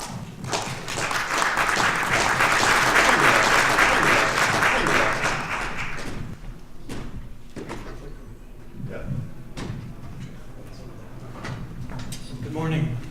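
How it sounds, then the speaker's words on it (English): A conference audience at FiNEXT 2018 applauds as a speaker is welcomed on stage. Loud, dense clapping lasts about six seconds, then fades into scattered claps and quieter room sounds. "Ladies and gentlemen, please give a warm round of applause"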